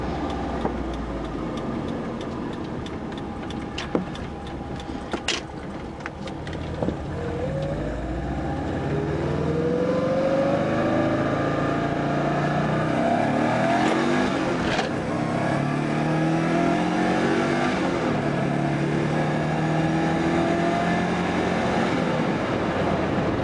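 A stock Subaru EJ20G engine, still warm after a recent drive and surging slightly, drones steadily on a test drive. Engine tones sweep upward as it accelerates, loud and continuous with road noise and no talking.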